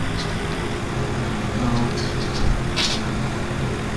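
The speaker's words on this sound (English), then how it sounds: "Tractor." Steady low engine rumble of a tractor in the Farming Simulator 17 video game, a continuous droning hum at moderate volume with a few faint clicks over the top.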